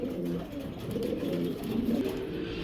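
Pigeons at a pigeon sale, including a red checker hen, coo softly and continuously in a low murmur, with room noise and no clear talk.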